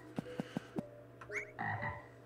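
Four evenly spaced croaks from a one-eyed frog in the RPG Maker horror game Elevator Ritual, followed by a brief chime and low game tones, moderately loud and with no speech.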